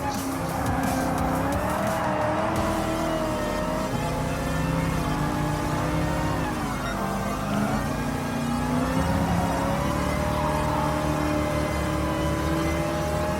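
Racing cars in the Gran Turismo Sport video game, an Aston Martin DB11 and a Porsche 911, give a loud, continuous engine whine that shifts in pitch as they overtake one another, with no talking.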